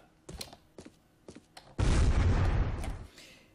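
Explosions in the video game SiN: a few faint sharp pops first, then one loud, sustained blast with a roaring broadband rumble that gradually decays over about a second and a half.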